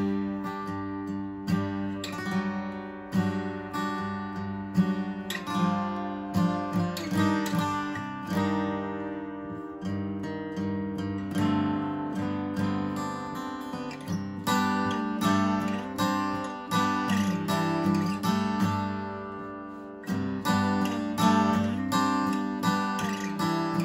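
Takamine GD20CE-NS electro-acoustic guitar played solo, close and clear, with strummed chords and picked runs flowing in a steady rhythm and bright ringing notes, with no voice over it.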